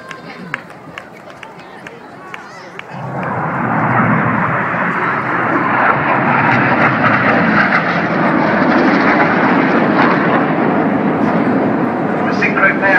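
Red Arrows jets at the Farnborough airshow rush past with a sudden, loud roar that swells after a few quiet seconds and stays strong to the end. A commentator's voice can be heard beforehand.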